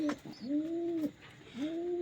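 Pigeons of a breeding pair nesting with eggs give two drawn-out, close, moderately loud coos with a short throaty note between them.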